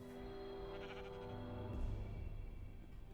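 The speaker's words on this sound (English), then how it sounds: "The legendary pink sheep." A pink sheep in the video game Minecraft bleats in a single drawn-out, nasal call that wavers and fades, heard alone and fairly quiet.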